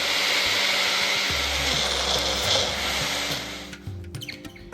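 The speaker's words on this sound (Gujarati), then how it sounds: "મિક્સી જારમાં ટામેટો મૂકી દેવાના છે આ રીતે, ને પછી આપણે મિક્સરમાં એને ફેરવી લઈશું" Mixer grinder blending tomatoes into puree, a loud steady high-pitched motor whir running for several seconds before winding down and stopping near the end.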